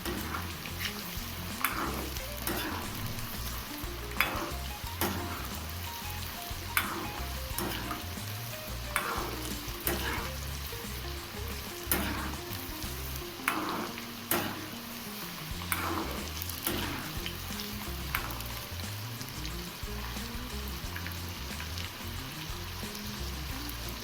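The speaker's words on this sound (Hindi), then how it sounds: "इसे अच्छे से अलटते पलटते हुए क्रिस्पी कर लेंगे" Party snacks deep frying on a high gas flame, a dense steady crackle of hot oil with repeated scraping and clinks as the pieces are turned over, close and continuous throughout.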